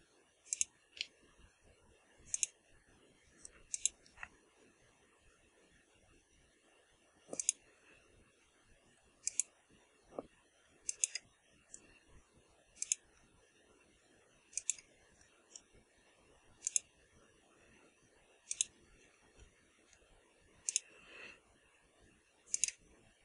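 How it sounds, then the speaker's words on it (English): Mouse clicks while the shift key is held, in photo-editing work: a long series of sharp, isolated clicks spaced a second or two apart, close and clear over a faint background. "Just holding down the shift key and clicking in the square."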